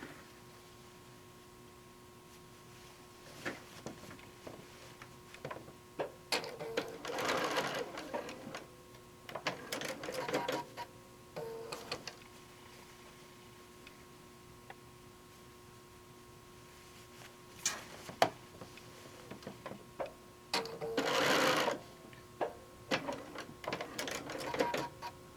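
A home sewing machine stitches a few short quilt tacks across a charm-pack table runner, giving several separate bursts of fast mechanical whirring and ticking with quiet gaps between them, close and moderately loud with no talk.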